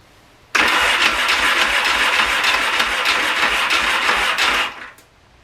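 Yamaha XS650 twin pulled from a barn, cranking over on the starter without catching: a steady, loud churning run of about four seconds that cuts off abruptly, no one speaking.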